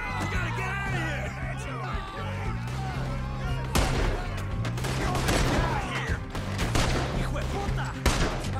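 A gunfight in Red Dead Redemption 2 crackles with rapid overlapping gunshots and volleys, loud and close, while characters shout and yell over the shooting.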